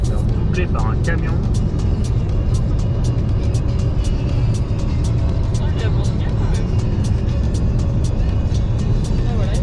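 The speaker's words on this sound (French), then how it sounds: "Il est en train de se faire doubler par un camion." A truck overtakes a car on a desert highway between Moab and Salt Lake City: a loud, constant rumbling road and engine roar close by, with people talking over it.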